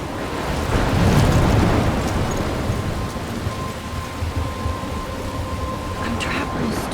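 Stormy wind and crashing waves roar steadily in the Life is Strange video game, a dense, loud wash that swells early and then holds, with a faint tonal hum running underneath.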